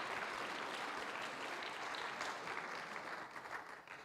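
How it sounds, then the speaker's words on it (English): Steady, dense audience applause at a lecture on Catholic art in the 21st century, a continuous wash of clapping heard from a distance and quite faint, with no clear speech. "No, please clap."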